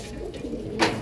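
Pigeons coo softly in a pigeon loft, a brief low murmuring call with a faint rustle near the end.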